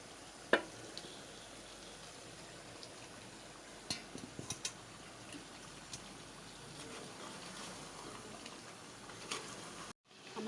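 Chicken pieces and two large potatoes sizzle in a pan, a faint steady frying hiss with a few louder clatters of a utensil near the start and midway.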